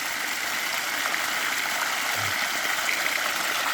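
River water running through a hose to flush dirt out of a line, a steady rushing, hissing flow at constant level with no voices.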